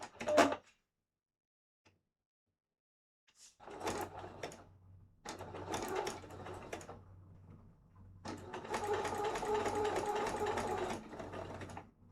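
Home sewing machine stitching fabric for a homemade outfit, a short burst then longer runs of rapid mechanical whirring and clatter separated by silent pauses, close and fairly loud.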